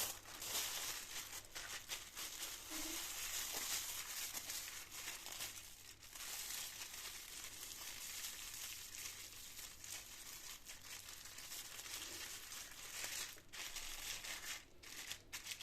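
Plastic freezer bag filled with homemade tomato paste, crinkling and crushing steadily as it is pressed flat to push the air out, continuous close rustling throughout.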